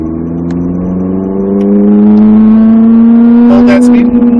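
Ferrari 458 cruising at about 35 mph on a racetrack. Its engine sits at a loud, steady droning tone that climbs gently in pitch as it holds speed, heard close up from inside the car, with a voice breaking in briefly.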